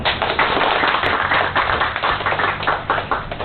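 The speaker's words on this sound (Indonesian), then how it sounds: "Tepuk tangan." Applause at the launch of a media organisation, a steady, close patter of many hands clapping at once, continuous and fairly loud throughout with no talk.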